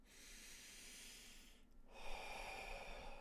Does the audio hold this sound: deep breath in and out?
yes